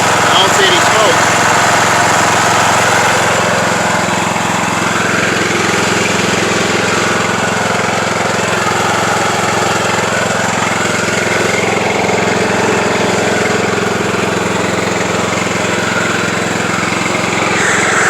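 A Craftsman YT3000 riding lawn tractor engine runs steadily nearby at a constant idle-like drone, loud throughout, with some voices mixed in.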